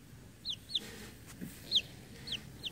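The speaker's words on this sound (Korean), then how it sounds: "꼬꼬야, 일로 와." A chicken gives five short, sharp high clucks spaced unevenly over a few seconds, close and fairly quiet against a soft background hum.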